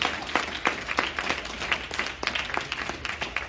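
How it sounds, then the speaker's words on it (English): A church congregation at Sunday morning worship claps in an even, rhythmic beat, sharp hand claps repeating several times per second at a moderate level with no one speaking over them. "clap your hands for the Lord this morning"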